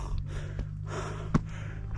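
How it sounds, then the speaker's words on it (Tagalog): Heavy panting after a long walk up to a Dolomites summit in Italy, close breathy gasps and exhalations with a sharp snorting intake midway, no speech. "Pasensya na kayo at hingal na hingal na ako."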